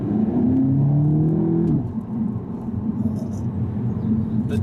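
A 2014 Audi S3 Saloon accelerates hard, its engine note climbing steadily for under two seconds before a gear change drops it, then pulling again as a loud, close rumble inside the cabin.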